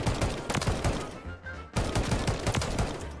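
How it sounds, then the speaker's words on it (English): Repeated shots from a DM56 Marksman Rifle in a video game, fired in a steady rhythm, loud and close, with a short pause in the middle before firing resumes. "the first loadout that we're going to be using is the DM56 Marksman Rifle"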